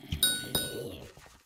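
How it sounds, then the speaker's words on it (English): A single bright ping from a Hypixel Skyblock sound pack in a video game rings twice in quick succession, a high chiming tone with short decay, heard alone with no talk. "And everyone's favorite, the ping."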